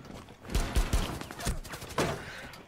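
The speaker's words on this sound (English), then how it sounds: "Here, gunshot." Gunfire in Rainbow Six Siege, a handful of sharp shots at irregular intervals, fairly quiet in the mix and heard alone with no voices.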